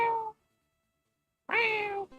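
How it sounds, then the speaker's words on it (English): A pet cat meows twice nearby, a short call followed after a pause by a longer, rising-then-falling meow, heard alone in a quiet room. "My cat is meowing at me."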